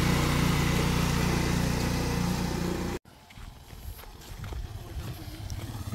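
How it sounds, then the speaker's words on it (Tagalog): A habal-habal motorcycle taxi engine in Pitogo, Quezon drones loudly and steadily for three seconds before cutting off abruptly, leaving quieter ambient rustle and faint outdoor noise. "May motor pa pang habal-habal yan."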